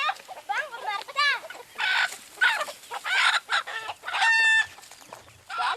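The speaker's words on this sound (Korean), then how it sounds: "하마로족은 집집마다 닭을 서너 마리씩 기릅니다" Chickens in a Hamar village in Ethiopia cluck and squawk loudly and close by, with bursts of agitated calls and a brief rooster-like crow, while voices chatter in the background.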